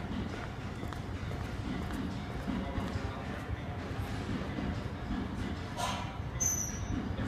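The Hokutosei sleeper train, pushed by an EF510 electric locomotive, rumbles steadily into Ueno Station, a continuous low roar of wheels and carriage noise with a faint squeal near the end.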